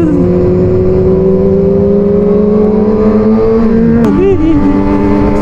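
Loud Yamaha R6 motorcycle engine drone with rising, shifting pitch as it revs passing a morning market, a brief sharp burst near the end, continuous and close.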